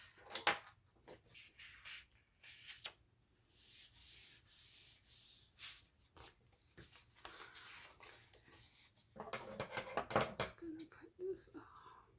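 Scissors cutting a piece off a sheet of card-making paper, with close rubbing and snipping sounds that come in uneven bursts across the clip, under quiet background activity.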